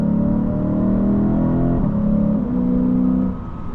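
A Lexus IS 500 F Sport Performance engine accelerates close and loud, its rising rumbling note climbing through the revs before easing off near the end.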